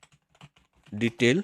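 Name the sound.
typing a prompt on a computer keyboard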